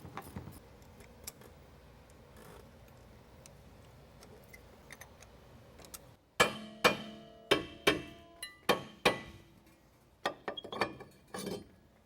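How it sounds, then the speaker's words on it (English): Hand work on Miata disc brake parts as an emergency brake cable bracket is moved from an old caliper to a new one, soft fiddling followed by a series of about eight sharp metallic clinks and taps, close and distinct. "transfer the emergency brake cable bracket from the old caliper over to the new one"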